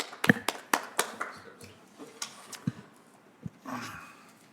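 Applause breaks out in a council chamber after a municipal oath of office, a scattering of sharp, uneven claps from a small group, fairly close, thinning out and trailing off with a few last taps.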